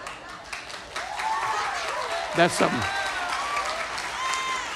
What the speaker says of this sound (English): That's something to clap for.